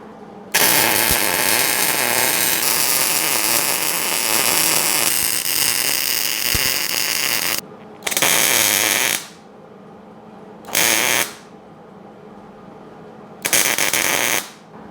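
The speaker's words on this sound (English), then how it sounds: "we're ready to go ahead and full weld it" A billet hood hinge is full-welded with a steady, loud buzzing hiss in one long continuous run, followed by three shorter bursts separated by quiet gaps.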